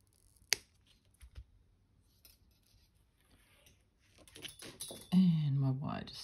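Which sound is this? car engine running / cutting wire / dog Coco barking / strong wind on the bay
cutting wire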